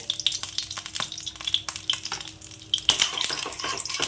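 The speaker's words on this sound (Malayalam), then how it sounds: "ഇനി ഈ ചട്ടിയിലേക്ക് ഞാൻ കുറച്ച് നെയ്യ് ഒഴിച്ചു കൊടുക്കുന്നുണ്ട്" Ghee heating in a hot pan, a busy crackling sizzle with spoon scrapes and small metallic clinks, close and fairly loud, growing brighter toward the end, with no one talking.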